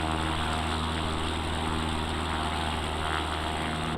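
An X Cub light airplane's propeller engine holds low power on landing approach, a steady, loud, droning hum heard from inside the cabin, with no breaks for the whole stretch.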